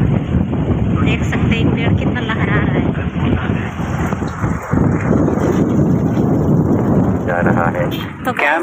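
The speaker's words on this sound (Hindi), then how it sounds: "देखिए कितना तेज़ी से हवा चल रहा है पेड़ पौधा जो है ना बहुत ज़ोर ज़ोर से हिल रहा है" Strong wind gusting through trees and plants in an autumn-season village field, a loud continuous roaring rush with buffeting on the microphone, steady throughout, with a voice talking over it.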